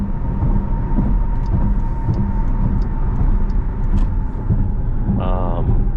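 Jeep SRT with a 6.4 liter V8 engine cruising, heard from inside the cabin as a steady, loud low engine and road rumble throughout, with brief clicks and a short tone near the end.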